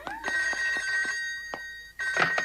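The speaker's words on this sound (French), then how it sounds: "Va répondre, You, s'il te plaît." A telephone rings in a French animated series episode, with repeated electronic trills in short bursts, close and clear, a pause, then another ring.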